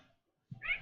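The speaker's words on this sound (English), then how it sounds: "sorry, I have a cat," A house cat gives a single short meow, faint and close, after a moment of near silence indoors.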